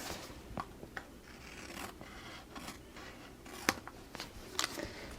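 Scissors trim excess patterned paper off a handmade 6x6 card, a run of quiet snips and rustles with a few sharper cuts, close and alone without talk.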